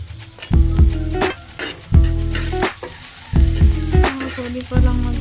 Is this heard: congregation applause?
no